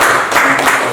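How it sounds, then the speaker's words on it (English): A classroom of students clapping for a classmate during a chemistry lesson at a girls' school, a loud, dense burst of applause close by that fills the whole moment. "Can you clap for Sheldon?"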